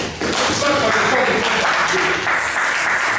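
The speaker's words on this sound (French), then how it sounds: "Acclamons très fort." A church congregation applauding during a service, a dense, loud wash of clapping that runs steadily throughout, mixed with crowd voices.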